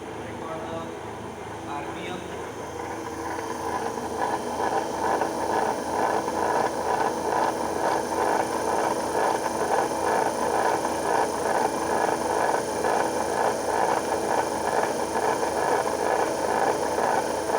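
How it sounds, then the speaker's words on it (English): A DC shunt motor on a laboratory test bench starts up and runs, its steady mechanical hum and whine building over the first few seconds and then holding constant and fairly loud. "Again switch on the supply, start the DC shunt motor."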